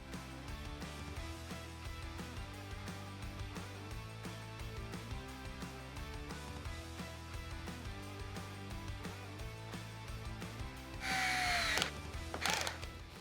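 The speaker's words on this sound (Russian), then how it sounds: "Это у меня саморезы 3х20. Также начнем с Bosch Go 2." A Bosch Go 2 cordless screwdriver drives small 3x20 self-tapping screws, its quiet motor whirring and clicking in short bursts, with a louder buzzing burst near the end, all faint and with no talking.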